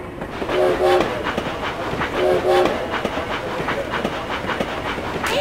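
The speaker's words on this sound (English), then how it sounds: "I love watching the train." A cartoon train runs along steadily with a rhythmic clickety-clack of wheels, fairly loud and continuous, with brief tonal whistle-like hoots sounding twice.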